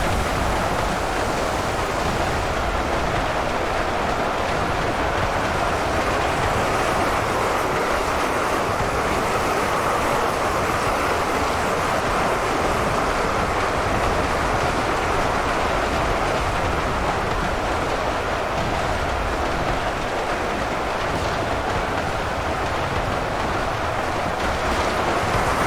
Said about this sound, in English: It just sounds like a constant waterfall. The sound of running blood and gunfire.